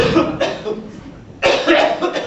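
A man coughs in a stage comedy, two harsh bursts separated by a short pause, loud and close with no speech over them.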